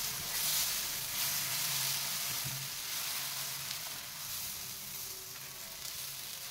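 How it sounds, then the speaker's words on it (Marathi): Dosa batter sizzles steadily in oil on a hot tawa, a continuous close crackling hiss with a few faint clinks and no voices. "याच पद्धतीने तव्यावर तेल टाकायचं आहे आणि दुसरा डोसा"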